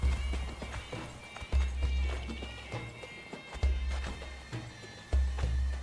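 Horse galloping in Conan Exiles, a steady run of hoof clip-clops with heavy low-end thumps, loud and close, with a possible whinny in between.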